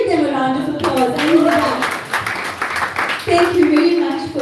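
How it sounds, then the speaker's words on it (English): Audience giving a round of applause, a burst of scattered hand clapping in the middle, with a voice talking before and after it. "let's give them a round of applause"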